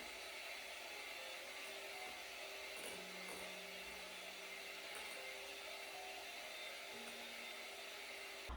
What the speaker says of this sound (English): we're gonna hit this with the hand mixer